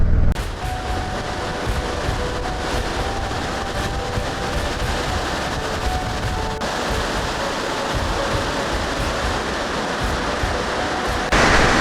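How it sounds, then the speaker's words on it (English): Steady broadband roar of a waterfall near Beartooth Highway in the mountains, a constant rushing wash of water heard close and loud with no voices. "found this waterfall just past Chief Joseph Scenic Byway"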